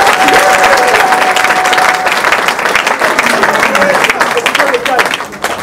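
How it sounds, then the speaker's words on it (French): Loud, sustained applause from a crowd at a cultural group's meeting with the Congolese culture minister, dense clapping with voices talking and calling out through it. "Applaudissez s'il vous plaît"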